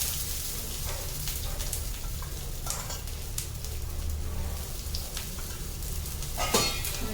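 Thalipeeth frying in oil in a pan, a steady close sizzle running throughout with a slightly brighter crackle near the end, no talking.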